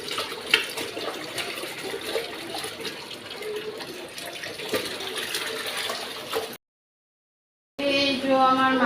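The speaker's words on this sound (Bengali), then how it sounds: "এই যে আমি একটু জামা কাপড় কেচে নেব। একটু ভিজিয়ে রাখবো" Clothes are washed by hand, with water splashing and sloshing steadily at close range. The sound stops dead for about a second, then a louder burst of running water follows.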